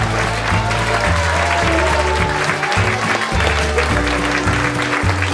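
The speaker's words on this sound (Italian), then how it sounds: "Un applauso a Biagio." Applause from a crowd of schoolchildren and adults thanking the class cook, steady dense clapping throughout with music playing loudly underneath.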